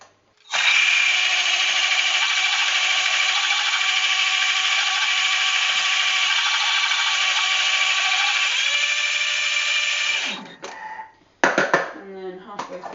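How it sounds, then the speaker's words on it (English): A blender runs loud and steady for about ten seconds, making a smoothie with the lid on. The motor roar shifts slightly partway through before stopping, followed by brief clattering and a voice. "Put the lid on, turn it on. This is noisy, I warn you now."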